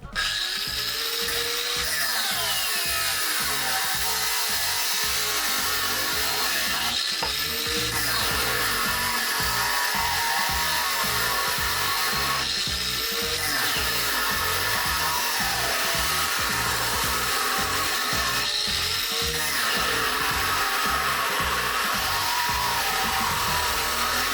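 An Expert-brand angle grinder from Epicentr cutting, a loud continuous motor whine with periodic dips where the disc slips and bogs under pressure, steady throughout with no talk.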